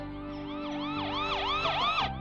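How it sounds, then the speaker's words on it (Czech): A strange wailing siren in an animated cartoon sweeps up and down in repeated rising-falling arcs, growing louder toward the end before cutting off, heard alone without speech. "Slyšela jsi to, co to bylo za divnou sirénu?"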